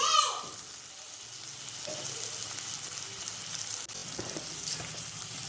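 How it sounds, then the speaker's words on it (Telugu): Chopped tomato pieces sizzle and fry in a pan for an Andhra-style tiger prawn curry, a steady close hiss after an initial splattering burst, with a brief stir or scrape partway through. "మనం కట్ చేసుకున్న టమాటా ముక్కలు వేసుకొని కొంచెం ఫ్రై చేసుకోవాలండి."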